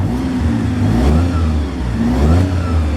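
A 2020 Kawasaki Mule Pro FXT Ranch utility vehicle sits stationary while its engine is revved, rising and falling twice in a smooth, moderately loud mid-pitched drone, with no one talking.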